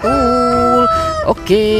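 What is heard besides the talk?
rooster crowing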